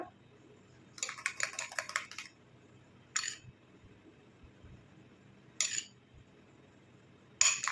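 A homemade face pack mixture is stirred in a small container, with short bursts of quick clicking and scraping separated by quiet pauses, faint and close.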